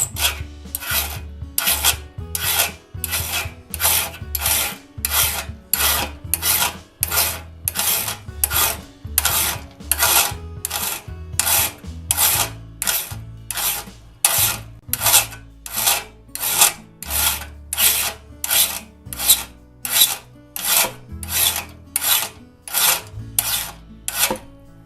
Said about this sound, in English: And file off that raker tooth.